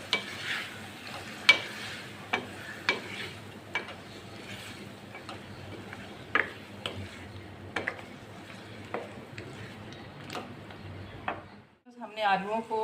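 Sliced potatoes being stirred in a pan with tomato and onion, soft scraping strokes and light sizzling at low level, someone speaking over it.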